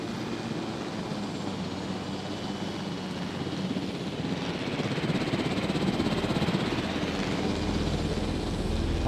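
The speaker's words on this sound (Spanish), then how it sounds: "ahora vuelvo a coger el helicóptero" A helicopter in the Jurassic World Evolution video game gives a continuous rotor and engine drone, steady and even, swelling a little toward the end with no talk.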